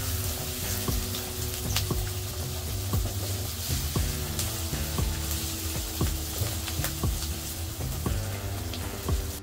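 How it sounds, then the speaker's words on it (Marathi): Green chili, chopped onion, curry leaves and ginger frying in hot oil in a pan, a steady close sizzle with scattered crackles and pops throughout. "त्यात तेलात छान फ्राय करून घ्यायचं सगळं"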